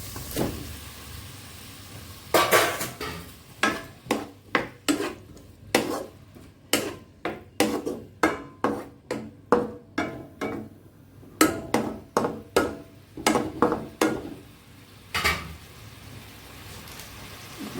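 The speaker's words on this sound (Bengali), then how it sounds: "এখন আমি দিয়ে দেবো পাস্তাটা সিদ্ধ করে রেখেছি, সেই পাস্তাটা" Boiled pasta tossed and stirred in a pan for a Bengali-style pasta, giving a steady run of sharp spatula clacks and scrapes against the metal, about two per second, close and fairly loud with no talking.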